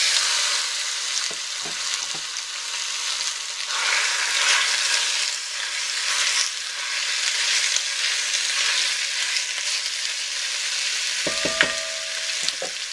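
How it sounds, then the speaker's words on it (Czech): Chopped pork fat cubes sizzling and frying in a hot pot, a steady loud crackling hiss lasting throughout, with a few faint clinks near the end. "nakrájené sádlo dáme do rozpáleného hrnce"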